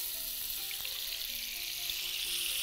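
Butter and oil in a very hot pan give an even, close hiss and crackle that holds steady throughout without speech.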